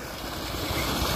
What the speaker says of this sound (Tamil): எவ்வளோ தண்ணி கொட்டுது பாருங்க.